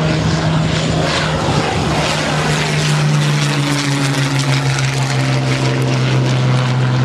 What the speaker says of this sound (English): listen to the sound of the Merlin as it comes over